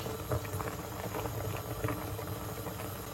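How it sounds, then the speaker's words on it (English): A pan of rhubarb, orange and ginger jam boils steadily, giving a continuous soft bubbling and popping patter close by with no talk over it. "Let this boil for 15 minutes"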